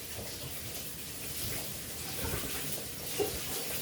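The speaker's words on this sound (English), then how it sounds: "So once again, throw some cold water on them." Cold tap water runs and splashes over marigold flowers being rinsed, a soft steady flow close by with gentle swishing and a small splash near the end, no voices.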